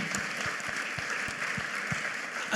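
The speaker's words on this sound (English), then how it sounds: "I would like to ask them for a round of applause" Audience clapping at a corporate anniversary event, a steady wash of applause filling the room throughout, with individual claps audible near the front and a slight swell at the end.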